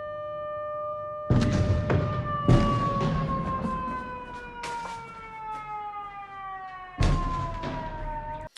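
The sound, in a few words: car alarms in a parking lot going off after an explosion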